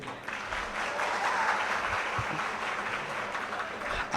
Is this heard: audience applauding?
yes